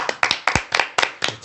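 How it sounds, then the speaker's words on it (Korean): A few people in a small studio audience clap briefly, about eight crisp, separate claps in under two seconds, close and moderately loud. "박수 한번 쳐줍시다."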